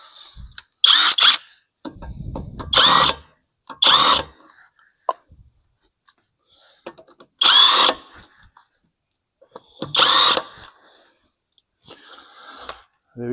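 A power tool in six loud, short whirring bursts separated by quiet gaps works a seized wheel nut on a Ford Escort under restoration, the car left standing five years in a yard.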